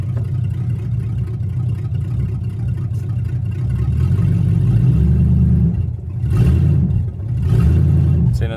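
A Mopar 360 V8 in a 1975 Chrysler CJ running loud and close, a deep steady rumble that swells and dips with a couple of short revs near the end.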